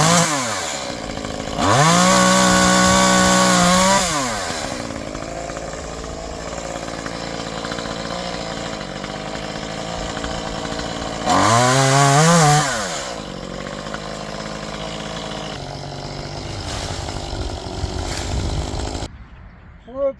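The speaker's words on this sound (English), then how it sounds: "So, a very light chainsaw works well." A light chainsaw cuts back overgrown English holly, its engine revving loudly in two bursts and idling steadily between them, close by, with some talking underneath.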